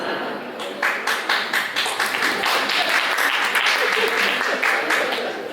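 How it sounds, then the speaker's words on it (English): One woman in a lecture audience claps, a run of quick, sharp claps that carries on over a murmur of voices in the hall. "The question is why she's the only one applauding."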